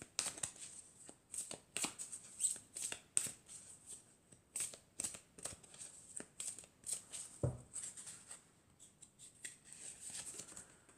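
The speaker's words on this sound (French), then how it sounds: "je vais prendre une carte de l'archange Michael pour avoir un message pour aujourd'hui" Archangel Michael oracle cards being shuffled by hand, a run of quiet, crisp riffles and flicks in irregular bursts, close and alone with no talk.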